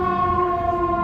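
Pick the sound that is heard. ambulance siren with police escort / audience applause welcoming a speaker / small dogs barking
ambulance siren with police escort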